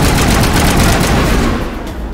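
Gunfire in the Mass Effect video game, a dense, loud burst of rapid shots running continuously before tailing off slightly at the end.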